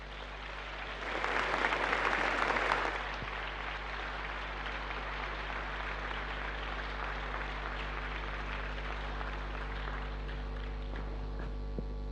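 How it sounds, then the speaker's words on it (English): An audience applauds the Prince of Wales at a young entrepreneurs forum, a dense burst of clapping swelling for about two seconds then cutting off, leaving a steady electrical hum in a quiet hall. "Let's welcome him with a big round of applause."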